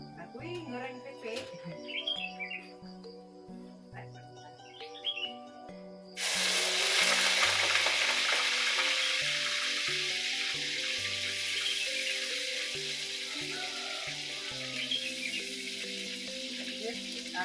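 Tempeh hits hot oil and begins to sizzle. A loud, steady frying hiss comes in suddenly after a few seconds and carries on. Bird chirps sound before and beneath it.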